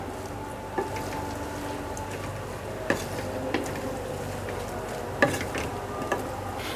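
Aloo anday curry with green chillies being stirred in a pot, a soft steady scrape and simmer with a few sharp spoon clicks against the metal, close and fairly quiet, no talking.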